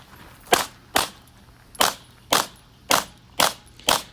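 Beretta pistol fired at a USPSA match stage: seven sharp shots in quick, fairly even succession, close and loud, with no voices.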